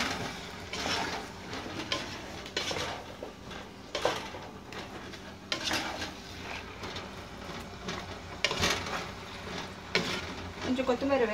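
Cauliflower masala curry being stirred in a pan, Andhra style, with repeated scraping and clinking strokes over a faint simmer, moderately close and fairly quiet.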